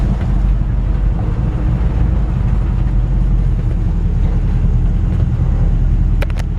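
A 1972 Chevrolet C10 pickup with power steering drives along and pulls up, heard from inside as a low, rumbling engine and road drone with wind buffeting, steady throughout.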